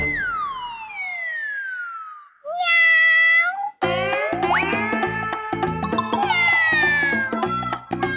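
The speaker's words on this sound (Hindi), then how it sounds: "क्लब हाउस में बिल्ली की आवाज कहाँ से आ रही है?" A cat meows in a drawn-out, cartoonish, sliding cry, joined by a bouncy boing and wailing siren-like tones in a loud comic sound-effect sequence, with no other voices.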